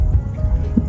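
A young horse walks with soft, irregular hoof clip-clops, fairly close, over a low rumbling background, with a faint snort near the end.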